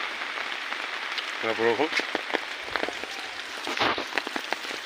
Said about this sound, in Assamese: এই চাওক বৰষুণ, পূৰা বৰষুণ দি আছে